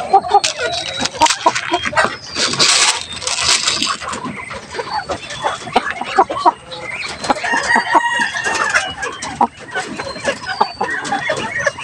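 Chickens and a rooster cluck and crow at feeding time among ducks and turkeys, with occasional wing flaps and a passing car; a person talks throughout, the birds busy and close.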